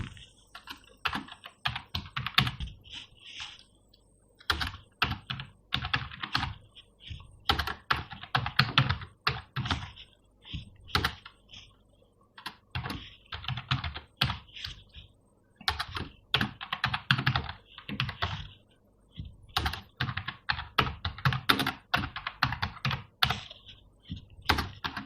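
Fingers typing item names into a Microsoft Excel spreadsheet on a computer keyboard, a steady close clatter of keystrokes in quick bursts separated by short pauses, with no voices.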